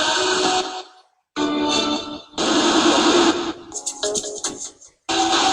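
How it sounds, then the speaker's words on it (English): An FCD MK4+ ghost box sweeps through radio stations, tossing up brief garbled broadcast snippets broken by long stretches of hissing white noise and short silent gaps, loud and close. "so you've got long gaps of white noise between the actual radio snippets"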